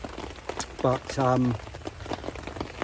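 Rain pattering steadily on a fishing bivvy and tarp in wet, miserable weather, a soft continuous hiss with scattered drops, with someone speaking briefly over it.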